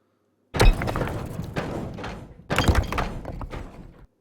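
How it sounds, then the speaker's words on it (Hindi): Layered cinematic hit effect for a slow-motion scene: two heavy, booming impacts about two seconds apart, each with a sharp thud and a long rumbling, crackling tail, loud and close with no talking. "यहाँ पे मैं एक हिट का साउंड दिया हूँ"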